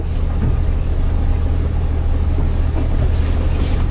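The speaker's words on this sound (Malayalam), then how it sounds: "ബോട്ട് ഭയങ്കര സ്ലോ ആണ്" A slow passenger riverboat on the Amazon between Leticia and Iquitos, Peru, drones with a loud, steady, low engine rumble and constant water and wind noise, unbroken throughout with no voices.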